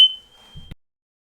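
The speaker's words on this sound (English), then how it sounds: "Our fire alarm basically goes off every time" A home fire alarm sounds a single sustained high-pitched electronic beep that starts loud and fades over under a second, followed by a brief low thump, then silence.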